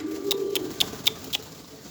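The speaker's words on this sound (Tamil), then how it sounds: "இங்கே பாருங்க 2 புறா அந்த சண்டையை போட்டுட்டு இதோ." Two pigeons just after a scuffle give a low, soft cooing murmur, broken by five sharp evenly spaced ticks or clicks nearby against a faint background hum.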